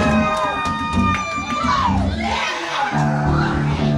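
A concert crowd cheering and whooping loudly at a metal show, shouts rising over sustained noise with some pitched voices sliding.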